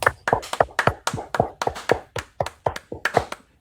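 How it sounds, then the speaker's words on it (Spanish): About a dozen distinct claps ring out for a departing speaker at a virtual conference, a steady, evenly spaced rhythm that sounds like a single pair of hands, close and fairly loud. "vamos a despedirlo con unos fuertes aplausos virtuales"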